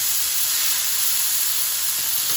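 Flank steak sizzles loudly in a frying pan just after being turned, a dense, constant hiss of frying with steam rising, close up and uninterrupted.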